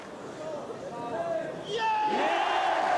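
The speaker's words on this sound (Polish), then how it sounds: "Teraz ten doping, Państwo słyszą, jest wzorowy" Basketball arena crowd at a 1995 Górnik versus Śląsk game, a swelling roar of fans chanting and yelling that grows louder halfway through and carries on as a dense, sustained wall of voices.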